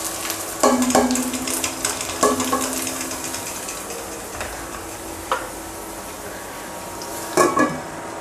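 Whole garlic cloves and chopped onions fry in a little oil, a soft continuous sizzle broken by several sharp clinks and scrapes of a utensil against the pan, close by.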